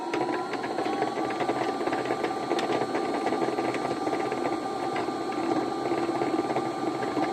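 A new sewing machine winds dark brown thread onto a bobbin, giving a steady, close, continuous whirring hum with a faint rising whine and no talking.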